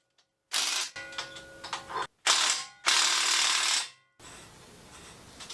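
A ratchet tightens the pinion nut on a Dana 44 axle from a Wagoneer, heard as three close bursts of rapid metallic clicking separated by brief pauses, followed by a quieter tail.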